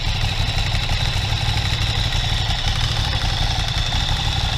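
A restored Ducati ST2 motorcycle engine idles steadily nearby, a loud even rumble with mechanical clatter and no talk over it.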